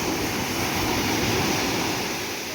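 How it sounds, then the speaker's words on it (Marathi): Sea waves washing onto a beach near Malvan in Sindhudurg in the morning, a steady broad wash of surf noise, continuous and fairly near with no distinct breaks. "रात्रभर अशाच खळखळ लाटा, त्यांचा आवाज."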